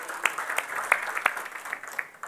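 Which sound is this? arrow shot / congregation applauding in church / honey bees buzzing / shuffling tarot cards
congregation applauding in church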